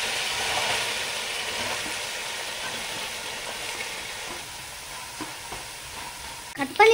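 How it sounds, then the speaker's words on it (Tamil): Steady sizzling of onions and green chillies sautéing in hot oil, with occasional stirring scrapes and a couple of louder clinks near the end. "நீங்கள் நறுக்கி வச்ச வெங்காயம், பச்சை மிளகாய் சேர்த்து நல்லா வதக்கிக்கோங்க"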